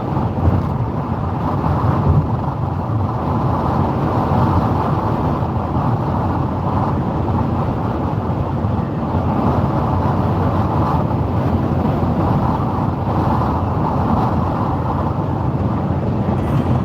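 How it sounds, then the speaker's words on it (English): Steady roaring wind noise buffeting a car on the highway, continuous and loud for the whole stretch with a low rumble of road and engine underneath and no talking. "It is windy again."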